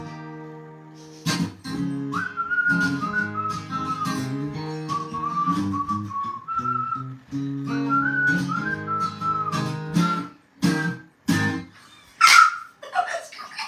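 A person whistles a lilting melody for several seconds, the tune rising and falling steadily, then breaking into a few short sharper chirps near the end, with no talk over it.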